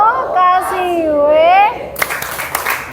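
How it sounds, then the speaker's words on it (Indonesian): Children in an Indonesian classroom do a rhythmic clap chant: sung, wavering voices come first, then a burst of quick, uneven claps close by for about a second. "kita tepuk wow ya"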